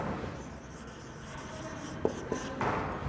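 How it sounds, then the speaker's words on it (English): Handwriting answers on paper for an English exercise, a soft continuous scratching of pen strokes close by with a few light taps. "so I'm going to write answers"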